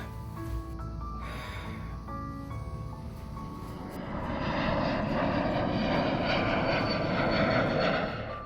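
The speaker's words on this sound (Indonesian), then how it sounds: "Itu... pesawatnya udah mau berangkat." An airplane engine builds into a loud, steady roar as the plane prepares to depart, swelling in the second half and holding close and strong to the end, with no voices over it.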